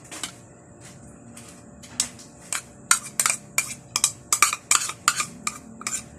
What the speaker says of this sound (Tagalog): Haluin ko ulit para mag-mix.